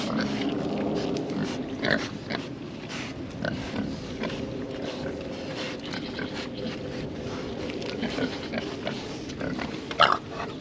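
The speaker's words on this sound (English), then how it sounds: "Hi, pig, pig." A farm pig grunts and snorts steadily close by in a muddy outdoor pen, low rough grunts running continuously over the whole stretch with a slightly louder snort near the end.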